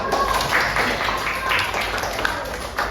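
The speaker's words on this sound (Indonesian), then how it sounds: "beri dulu tepuk tangan saya" A class of fourth- and fifth-grade children claps together at their teacher's request, a steady dense patter of many small hands filling the room at moderate loudness with faint voices mixed in.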